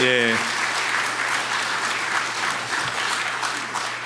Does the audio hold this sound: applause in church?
yes